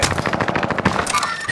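Rapid automatic gunfire in a first-person shooter video game, a dense burst of close, sharp shots in quick rhythm lasting the whole moment.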